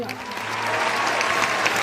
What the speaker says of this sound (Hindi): एक बार 9th क्लास के लिए जोरदार तालियां